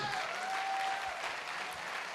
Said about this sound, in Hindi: जोरदार ताली मिस्टर नसीब सर के लिए, जोरदार ताली